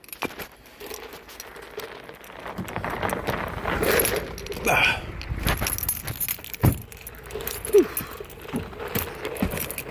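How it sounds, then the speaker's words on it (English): Car keys and house keys jangle close by in a hand as someone climbs out of a car with a broken door. A rustling, clinking stretch runs under scattered movement noise, with a couple of sharper knocks. "Car keys, house keys."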